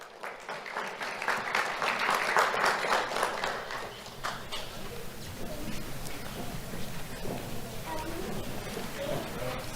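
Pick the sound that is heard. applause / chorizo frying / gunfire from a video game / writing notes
applause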